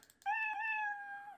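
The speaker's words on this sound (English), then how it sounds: "when I click the cat, the thing meows" A cartoon cat meow sound effect from the Scratch programming environment, triggered by clicking the cat sprite; a single clear, drawn-out meow lasting about a second, close and alone.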